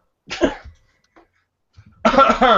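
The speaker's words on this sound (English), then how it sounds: "I'm coughing up a storm now." A couple of harsh coughs close up, a quiet pause, then a louder burst of hacking coughs.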